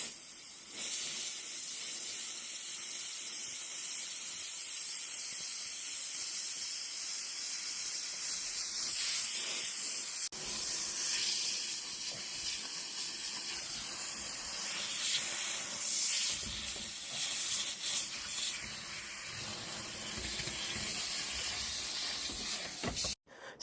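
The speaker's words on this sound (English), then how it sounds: "I took my spray and I sprayed everything" A cleaning spray mists surfaces in a dirty house, a long continuous hiss of aerosol held steady and close for over twenty seconds with only slight breaks, no voices.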